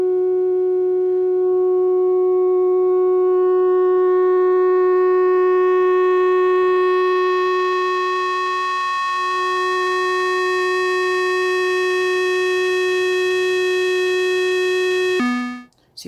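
Sustained tone from a Lorre-Mill Keyed Mosstone synthesizer with its wavefolder being swept, a steady buzzy note whose upper harmonics slowly shift and thin, holding loud and alone before an abrupt cut at the end.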